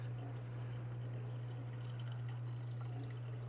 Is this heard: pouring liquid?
yes